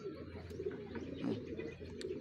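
A homing pigeon returning from a pigeon race coos softly nearby amid quiet outdoor background noise, with a few faint chirps.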